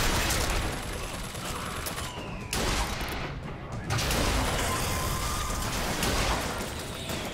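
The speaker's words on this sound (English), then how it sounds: "Rockets." Rockets and heavy gunfire in the shooter video game Bioshock Infinite, a loud sustained barrage of blasts and explosions with brief dips, while a voice talks underneath.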